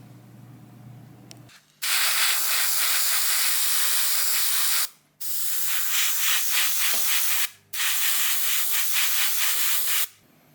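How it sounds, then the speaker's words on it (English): A spray can sprays combined primer and body filler onto a small RC car light part in three long, loud hissing bursts, each cut off by a short pause. "now I spray it with primer and body filler in one"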